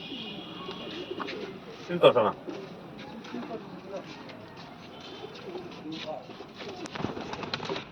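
A Tamral racing pigeon coos softly at close range amid low background murmur, with a louder burst of cooing near the start and scattered quieter calls afterward while people talk nearby.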